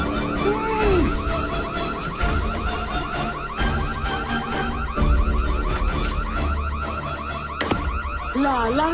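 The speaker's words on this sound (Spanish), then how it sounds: "La alarma de incendio." An electronic alarm wails in a repeating, warbling cycle, loud and continuous, with clatter and a short voice exclamation in the background.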